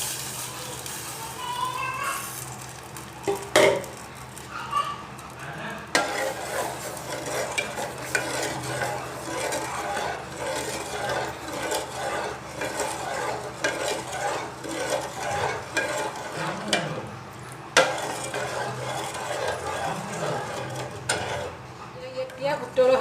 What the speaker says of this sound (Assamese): এতিয়া উতল অহালৈকে মই এয়া লৰাই থাকিম।